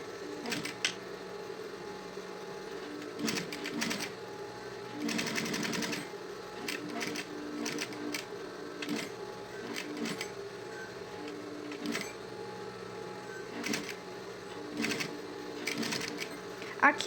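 A sewing machine stitches piping onto a synthetic leather school pencil case in bursts of rapid mechanical whirring, stopping and starting, with a voice talking at times between runs.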